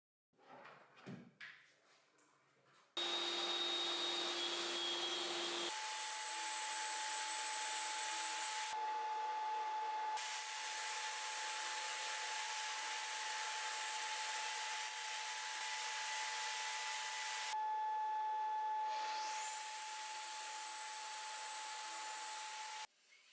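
A table saw cuts the wooden base of a sled after a few brief knocks, its motor whining steadily in long sustained passes that shift pitch as the blade bites and runs free, fairly quiet overall.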